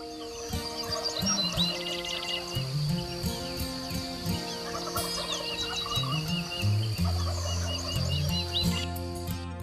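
Several wild turkeys gobbling on a ridge, loud rattling gobbles overlapping and answering one another in quick succession, mixed with clucks and small birds chirping in the background.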